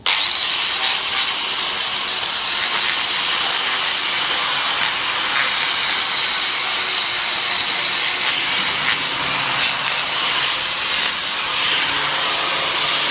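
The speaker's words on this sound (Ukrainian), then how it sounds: "Обов'язково болгарка повинна бути кутом 90 під кутом 90 градусів." An angle grinder trims a cow's hoof, grinding continuously with a harsh, loud, hissing abrasive roar that barely varies over its length.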